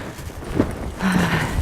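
Horses move over frozen ground with soft clip-clop steps and a brief low snort or whinny, heard at moderate distance over outdoor background noise.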